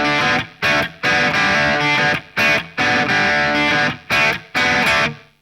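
A hard rock song plays loud and full, with distorted guitar chords and drums chopped into short bursts separated by brief gaps.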